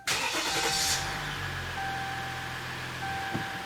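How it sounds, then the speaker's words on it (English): A Dodge Ram pickup with failed electric power steering cranks over briefly, then catches and settles into a steady, fairly loud idle with a faint whine, close by and with no voices. "I'm gonna start the truck."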